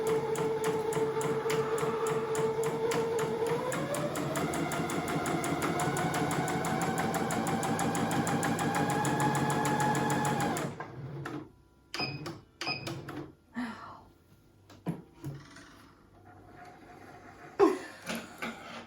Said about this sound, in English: I'm going to lower my presser foot and I'm going to have a go at stitching.